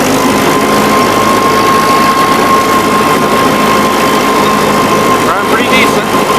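A farm engine runs steadily and loudly throughout, a continuous rumbling drone with a faint whine and a brief squeaky sound near the end.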